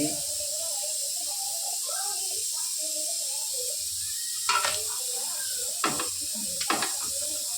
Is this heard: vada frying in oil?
yes